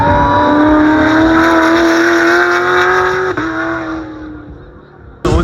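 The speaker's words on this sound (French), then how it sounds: "Incroyable, la sonorité du véhicule." A Formula 4 race car engine screams at high revs, loud and close, holding a steady whine before dropping off, then a sharp burst at the end.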